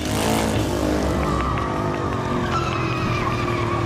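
Cars skidding through Havana streets during a Fast and Furious 8 stunt, with loud tire squeal over revving engines that holds up throughout, close and continuous.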